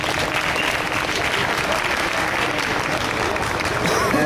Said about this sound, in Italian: magari un applauso.